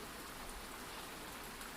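Soft rain falling, a steady, even hiss of drops that continues unbroken and quiet throughout.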